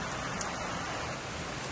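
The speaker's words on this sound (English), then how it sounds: "Now, this rain" Steady rain falls in a continuous, even hiss of drops on surfaces, close and unbroken with no other sounds.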